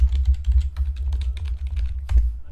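Quick, irregular clicks of fingers typing on a computer keyboard, close and clear, with short bursts of keystrokes and a brief pause before a final flurry.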